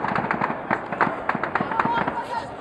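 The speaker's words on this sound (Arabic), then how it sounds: "اطلاق نار من المنطقة التضاريه" Rapid gunfire crackles in a street where protesters are being shot at, a run of sharp close pops in quick succession under shouting voices.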